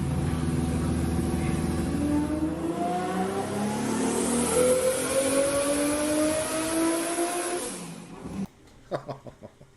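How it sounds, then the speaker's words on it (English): A tuned Toyota Supra engine of about 700 horsepower revs up in a long rising sweep, loud and near, climbing steadily before dropping off, followed by a few faint knocks. "that is the best sounding Supra that has ever existed"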